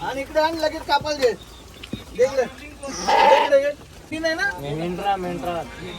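A sheep bleats loudly a few times amid nearby talking at a village goddess festival, the wavering cries standing out between voices.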